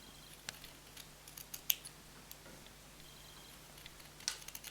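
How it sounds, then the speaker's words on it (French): Scissors cut along a traced outline through light-colored wool fabric, giving a few faint, isolated snips in an otherwise quiet room. "avec une paire de ciseaux, vous découpez sur le tracé."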